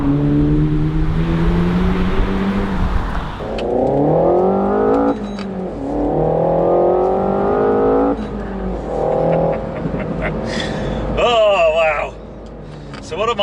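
A Renault Megane RS 300 Trophy engine revs hard through repeated rising acceleration runs with gear changes, loud and close from inside the car, with someone talking over it.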